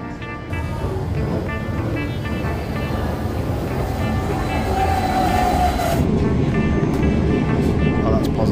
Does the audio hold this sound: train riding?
yes